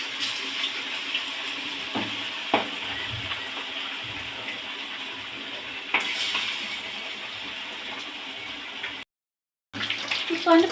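Batter-coated fish fries in hot oil with a loud, steady, hissing crackle and a few sharper pops, cut by a short silent break near the end.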